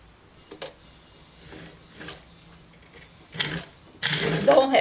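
A sewing machine stitches fabric for a skirt, backstitching to secure the seam: quiet mechanical ticks give way to two short, loud whirring bursts of stitching near the end.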